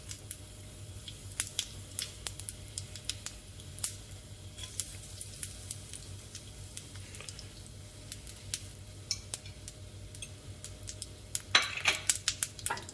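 Cumin seeds crackling in preheated oil for an egg gravy: faint, scattered sizzling pops and light clicks over a low background, growing a little busier near the end.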